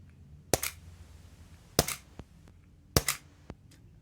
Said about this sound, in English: just have a quick couple of shots with this again